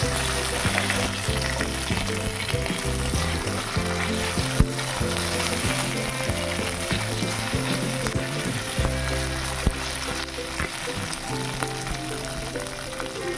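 Dried red chillies, bay leaves, cumin, crushed ginger and whole coriander seeds fry in hot oil in a kadai, giving a loud, constant crackling sizzle close up, with music playing underneath.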